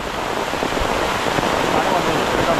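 Heavy Kerala monsoon rain pouring down, a dense, steady hiss of rainfall filling the whole stretch without pause.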